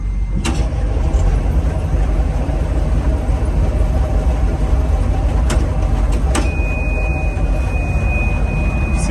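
A John Deere 1177 combine harvester engine runs at a steady, loud, low rumbling idle just after starting, heard from close by with a few sharp clicks and a thin electronic tone near the end.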